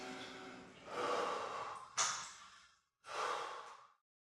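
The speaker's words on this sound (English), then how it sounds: "you're gonna wanna try to control your breathing as fast as possible. Deep breaths." Deep, heavy breaths in a cold plunge tub: long, loud exhales and inhales close to the mic, one sharp gasping breath, then a pause before another breath.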